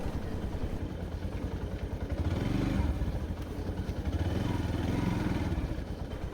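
A motorcycle rides along a forest road in the Jawadhu Hills, its engine putting out a steady pulsing throb that swells in two longer surges, with a voice speaking briefly over it.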